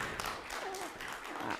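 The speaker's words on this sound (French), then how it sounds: "On applaudit?" Faint clapping from a church congregation during a Sunday service, a soft crowded patter of hands with a brief murmur of voices mixed in.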